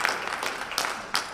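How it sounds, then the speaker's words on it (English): Brief audience applause at a Congressional Black Caucus Foundation event in Washington DC, a short burst of scattered clapping with a couple of sharper claps standing out. "Can we give him a round of applause?"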